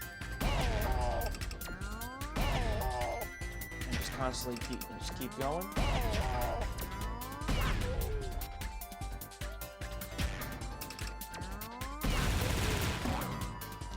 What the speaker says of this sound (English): you just constantly shoot your way up through cannons